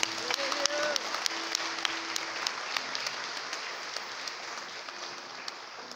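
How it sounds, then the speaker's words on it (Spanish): A church congregation applauds during an Easter sermon on the resurrection, steady moderate clapping with scattered sharper claps and faint voices or tones mixed in, continuing evenly throughout. "Denle un aplauso a Dios por eso."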